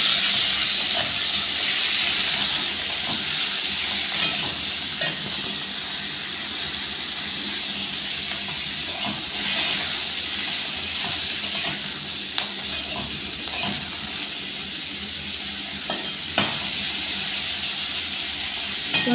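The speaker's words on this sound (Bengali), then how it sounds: "ফুলকপিগুলো লাল লাল করে ভেজে নেবো।" Cauliflower florets fry in hot oil in a pan, giving a steady close hiss and sizzle with faint scrapes and clinks throughout.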